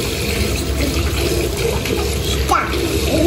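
Tap water runs steadily into a sink as a child washes hands, a close, continuous splashing rush over a brief moment.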